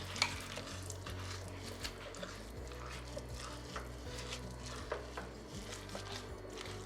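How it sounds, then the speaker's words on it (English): A spoon stirs minced garlic into a mixture in a bowl, producing faint, repeated soft scraping and clinking over a low background hum, with no speech. "let's just stir all of this together just to combine it"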